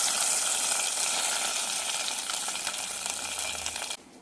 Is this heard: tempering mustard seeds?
yes